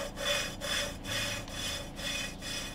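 Engine valve being lapped against its seat with grinding paste: a steady back-and-forth gritty rasping rubbed in even strokes about twice a second, close and fairly quiet, with no talk.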